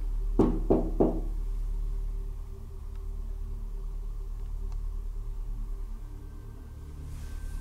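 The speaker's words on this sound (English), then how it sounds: "If you're on the other side of this door, knock for me just like this." Three quick knocks sound on a door early on, sharp and close, followed by a long stretch of quiet low hum and faint room noise.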